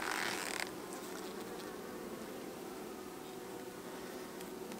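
Honey bees hum steadily inside an open hive during an inspection of a plastic frame, a dense continuous buzz close by with a brief louder rustle at the start and no talk.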